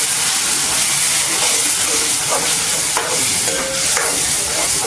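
Cumin seeds and asafoetida crackle in hot oil in a pan, with garlic, onion and tomato going in: a loud, close, continuous sizzle with scattered pops and stirring clinks, no voices.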